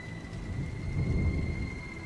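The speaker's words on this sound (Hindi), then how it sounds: "तभी आसमान में जोर जोर से बादल गरज उठे और बारिश होने लगती है" Rumbling thunder over steady rain, both heard throughout at a moderate level, with the low roll building toward the middle before easing, and no voices present.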